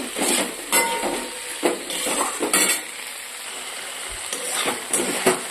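Green chili, tomato, salt and turmeric with potato frying in a pan are stirred, giving repeated scraping clatters of a utensil against the metal over a soft sizzle, close and rhythmic, no talking.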